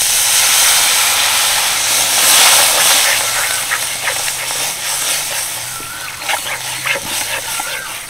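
Water poured into hot spiced gravy in a pan, giving a loud burst of hissing steam and sizzle that fades into a bubbling, crackling simmer up close.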